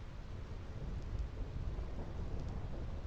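Steady thunderstorm ambience from the video game Final Fantasy X: rain hiss and low rolling rumble fill the whole stretch at an even level, with no voices over it.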